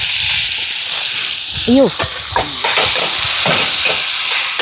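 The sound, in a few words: ground paste added to hot oil with mustard seeds, sizzling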